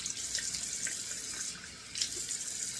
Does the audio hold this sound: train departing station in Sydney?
no